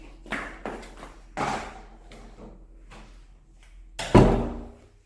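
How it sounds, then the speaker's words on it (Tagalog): A house door is shut once, a single close thud near the end, after a few softer handling knocks and bumps nearby; no talking. "Sara ko muna yung pinto."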